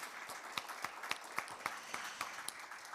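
Audience applause closing a session at a vaccine cooperation forum, a steady wash of many hands with a few sharper claps standing out, moderately distant and sustained without talk.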